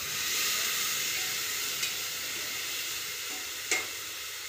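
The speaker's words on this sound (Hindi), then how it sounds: "इसने हींग और जीरा और बस अब टमाटर डाल रही है।" Tomatoes frying in a pan with asafoetida and cumin for khichdi give a steady, fairly faint hiss and sizzle, with two brief sharp clinks of a utensil partway through.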